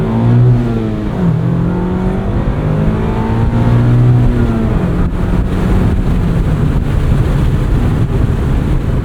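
A 2025 Mazda MX-5 Miata Club (ND3) engine roars at full throttle, revs climbing and shifting, loud with wind buffeting the microphone.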